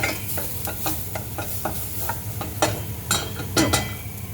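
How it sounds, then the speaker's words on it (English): Spices stirred and sizzling in a hot pan for a tagine, with steady frying crackle under repeated scraping strokes of a spoon, close and fairly loud. "You want to get the spices in, saute in, because that gets that aroma going"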